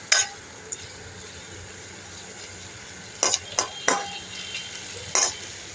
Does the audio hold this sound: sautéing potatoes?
yes